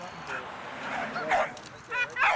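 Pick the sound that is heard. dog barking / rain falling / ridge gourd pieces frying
dog barking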